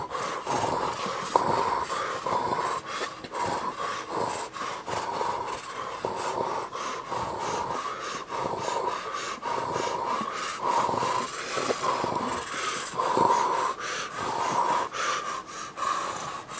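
A person imitates a gorilla grunt with a steady run of breathy, snorting huffs that repeat through the whole stretch at a moderate, close level, with no other voices.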